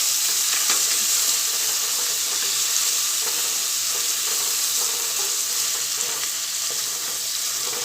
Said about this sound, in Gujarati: હવે એમાં આપણે ટામેટાં નાખી દઈશું।